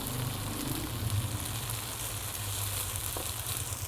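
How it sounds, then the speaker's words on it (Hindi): Rice tipped into a pan of frying vegetables hisses in a loud, continuous sizzle that holds steady for a few seconds, with no voices. "अब मैं इनमें ये चावल डाल रही हूँ।"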